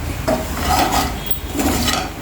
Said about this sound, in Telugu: ఇట్లా కొద్దిసేపు మంచిగా ఫ్రై చేసుకోవాలండి